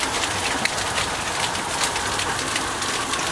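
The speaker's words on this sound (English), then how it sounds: "quite a big hailstorm here at Bannogan Valley" Hail from a thunderstorm pelts a lawn in the Bannogan Valley of the Gold Coast hinterland, a dense, steady hiss of countless small impacts with scattered sharper ticks, continuous and close.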